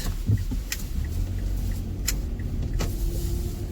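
Passenger car driving, giving a steady low engine and road rumble inside the cabin with a few faint clicks and ticks on top and no talking.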